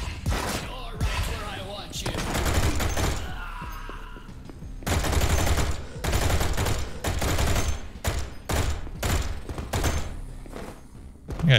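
Heavy cannon fire from an enemy in the retro shooter Project Warlock 2, delivered as loud, rapid bursts of booming shots and thuds that come in dense volleys, with short lulls between.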